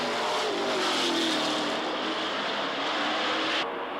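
Race cars run flat out around a circuit in a short race, engines roaring loud and continuous as they sweep past, with the pitch shifting before the sound abruptly thins near the end.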